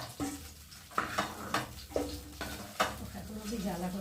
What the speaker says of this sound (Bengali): মাছগুলো এখন দু পিস করে ভেজে নিয়েছি আর এখন আমি তুলে নেব